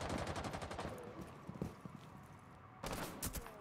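Gunfire in Rainbow Six Siege comes as a rapid burst of sharp shots, then scattered pops, then another quick volley, all loud and close over the game's background noise.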